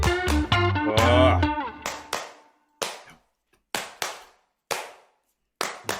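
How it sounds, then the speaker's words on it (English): A rap track with a programmed clap beat: crisp, evenly spaced sharp claps ring out one at a time after a short dense musical opening, with brief silences between hits and a voice over the start. "now with a clap track"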